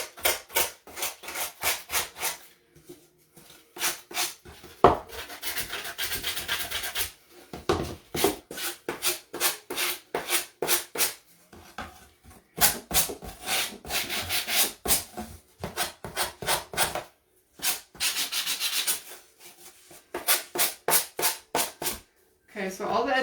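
Rapid back-and-forth rubbing of sandpaper on wooden cutting board edges, in bursts of quick strokes separated by short pauses, close and fairly loud.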